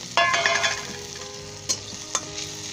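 Green chili, kasuri methi and cumin sizzle in hot oil for a Punjabi boondi karhi, a steady frying hiss with stirring scrapes and two sharp clinks of a spoon against the pan.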